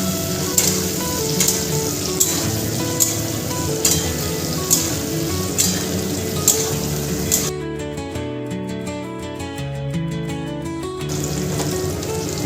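Cauliflower florets frying in oil, a continuous crackling sizzle with faint periodic stirring scrapes, then a quieter, cleaner stretch of hissing bubbles toward the end.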